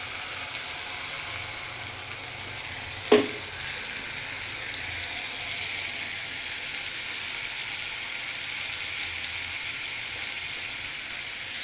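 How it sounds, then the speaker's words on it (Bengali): Spice masala being lightly sautéed in a pan, with water from rinsing the blender jar added; a steady, even sizzling hiss runs throughout, broken once by a single sharp clink early on. "পরিমাণ মতো মশলাটা দিয়ে মশলাটাকে একটু কষিয়ে নিতে হবে হালকা করে।"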